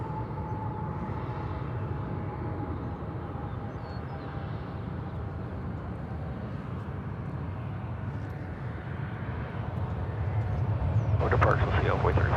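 At DFW Airport, a jet's engines give a steady, heavy roar as it takes off from runway 18 left, building louder near the end; a radio voice speaks faintly beneath the noise.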